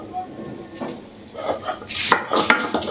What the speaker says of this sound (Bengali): আদাটা পাটায় বেটে নেব